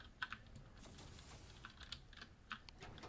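Clicky keystrokes on a loud computer keyboard come in short, irregular bursts with brief pauses between them, close by but fairly quiet overall.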